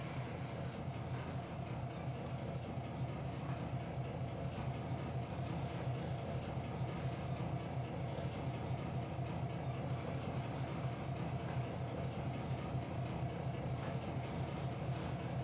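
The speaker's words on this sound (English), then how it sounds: "This train is at 600 tons." A heavy freight train of about 600 tons climbs a 2% grade, a continuous low rumbling drone of engine and rolling cars that holds steady and fairly loud throughout, with no voices.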